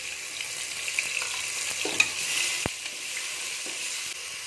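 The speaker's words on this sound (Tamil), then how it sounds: "வெங்காயம் நல்லா பொன்னிறமாக வதங்கிருச்சு. இப்போ இந்த இஞ்சி பூண்டுலாம் அரைச்சோம்ல" Onions fried golden with ginger garlic paste sizzle steadily in a pan, a soft continuous crackle with a few faint stirring clinks and one sharp tap.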